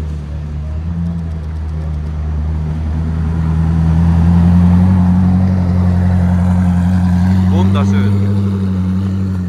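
A Koenigsegg Jesko supercar drives past on a street in Zurich, its engine drone swelling from a low rumble to a louder hum and then easing slightly, while a person speaks briefly over it.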